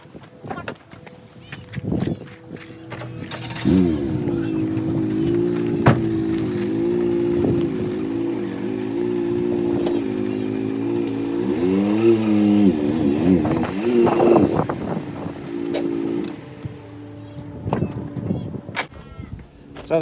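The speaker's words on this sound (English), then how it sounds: "I'm going to start the car up and I'm going to drive it up on the ramp" A 2014 Fiat 500 engine starts with a short crank, then settles into a steady idle and driving hum, rising a little as the car climbs onto ramps, close and fairly loud, with some low speech underneath.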